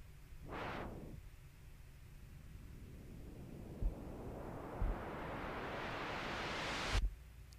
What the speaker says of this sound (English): what you do is you put an auto filter on it.